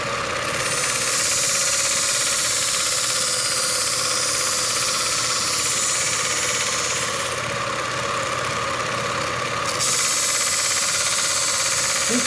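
A slow-running machinist's grinder shaping a cutter drones continuously at close range, a steady rumbling motor with a rattling vibration and a brief shift in its higher hiss partway through.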